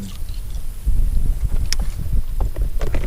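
Strong wind buffets the microphone outdoors on a fishing boat during a bass fishing outing with a jerkbait rod, a steady low rumble with gusty surges throughout, loud and close, with no talking.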